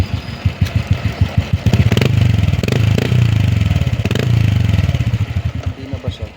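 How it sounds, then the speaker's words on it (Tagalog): Motorcycle engine revving through its exhaust, close and loud: a quick rhythmic putter opens, then two sustained revs swell and drop before it settles back to a fast idle. "Ang ganda na yung tunog ng tambutso niya."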